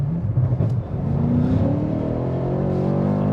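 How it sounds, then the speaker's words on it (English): A BMW F90 M5 tuned to around 800 horsepower with aftermarket downpipes accelerates hard, engine tone climbing steadily with a rising whir of turbo spool, heard from inside the car, loud and close with no talk. "You get a lot of turbo spool."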